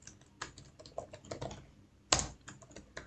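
Keystrokes on a computer keyboard while HTML code is typed in a programming tutorial, a quiet irregular run of clicks with one louder burst of keys partway through.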